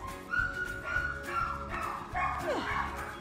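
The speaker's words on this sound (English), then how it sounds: "you hear all those dogs and you're not even bothered" Several dogs bark, yip and whimper at a distance in a steady, overlapping chorus, with a faint whistle-like tone running beneath them.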